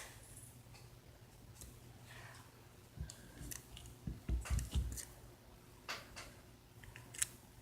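Small scissors snip a piece of tape for nail art, giving a few quiet, close, crisp cuts and rustles spread irregularly over several seconds against a faint background hum.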